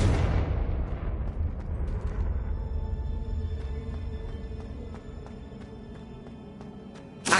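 A Confringo blasting spell explodes in the Hogwarts video game with a loud booming burst that rolls off into a long, fading rumble, followed by faint crackles and a sharp hit at the very end.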